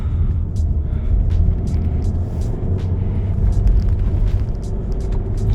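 A 2019 Ford Escape with the 1.5 EcoBoost engine and all-wheel drive, driving along. Steady low engine and road rumble fills the cabin, with light scattered clicks and ticks above it and no talking.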